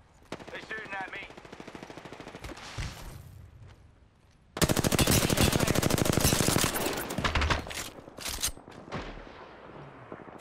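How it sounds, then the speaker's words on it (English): Gunfire in the battle royale game Apex Legends: bursts of automatic fire build into a long, loud rapid volley, then break into scattered shots, with brief team chatter under parts of it. "They're shooting at me."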